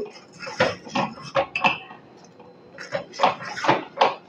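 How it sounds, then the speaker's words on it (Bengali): Metal utensils clink against a pan as ground cashew and almond powder goes in for malai kulfi: a string of close, sharp clatters in uneven bursts with a short quiet gap in the middle. "আমি যে কাজু আর আমন্ডটা একসঙ্গে গুঁড়ো করে রেখেছিলাম সেটা আমি এখন দিয়ে দেব"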